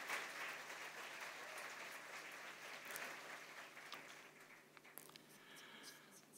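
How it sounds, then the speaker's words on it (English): A crowd at a symposium in a parliament applauds steadily, a dense patter of clapping that carries on throughout at moderate, distant loudness. "This is your round of applause."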